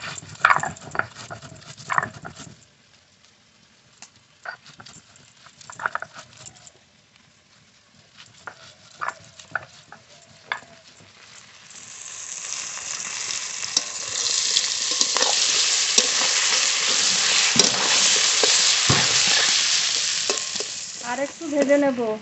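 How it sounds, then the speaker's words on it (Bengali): Big prawns are stirred and fried in a pan for a malai curry, with scattered scrapes and clinks at first, then a loud, steady sizzle from about twelve seconds on as more frying takes hold. "আর একটু ভেজে নেব।"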